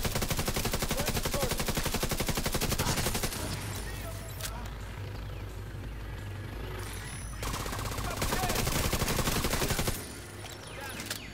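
A sniper boss and other fighters in The Division 2 fire dense, repeated bursts of gunfire in loud stretches, broken by a quieter middle section and an easing toward the end.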